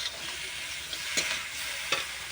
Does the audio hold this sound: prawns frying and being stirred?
yes